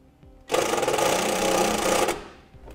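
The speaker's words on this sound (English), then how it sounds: "We use a self-tapping screw that comes with the kit along with a quarter inch nut driver." A power driver with a quarter inch nut driver runs a self-tapping screw into metal on a 2015 Jeep Wrangler, giving a single loud, close whir of about a second and a half that stops sharply, with a faint click after.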